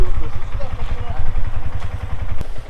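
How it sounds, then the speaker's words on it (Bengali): A motorcycle engine idles close by with a low, throbbing rumble and occasional clatter as it is taken out in light rain, while voices can be heard faintly. "বাইক বের করতেছে"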